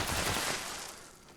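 Explosive rounds fired at super mutants in Fallout 76 make a rough, broadband burst of shots that gradually fades away, fairly quiet overall.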